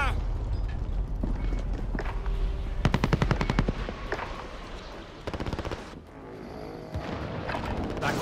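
Gunfire in a military first-person shooter game, with bursts of rapid automatic fire and single loud shots alongside explosions and in-game radio voices, under a player talking.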